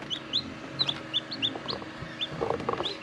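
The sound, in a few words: newly hatched chicks peeping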